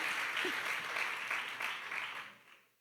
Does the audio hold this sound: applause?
yes